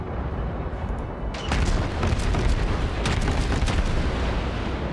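Naval guns of a Russian Svietlana cruiser firing 130 millimeter rounds in World of Warships, a dense run of loud booms that starts after a quiet moment and keeps rumbling close for several seconds.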